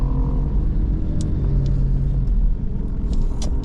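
Road traffic with cars passing on a busy road in Pampanga, a steady low rumble of engines and tyres with a few faint higher hisses, continuous and moderately close.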